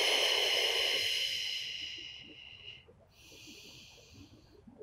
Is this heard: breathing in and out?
yes